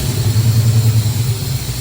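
A 1969 Pontiac Firebird with Holley Sniper fuel injection idles rough and stumbles out of gear, a loud, close, uneven low engine drone with a lumpy, wavering pulse.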